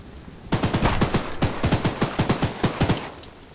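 Rapid machine gun fire in the horror video game Choo Choo Charles, a loud burst of evenly spaced shots after a short silence, heard alone.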